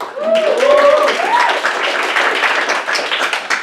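A comedy club audience applauds performers before an improv game: a dense, steady wash of clapping throughout, with a few cheering voices rising over it near the start.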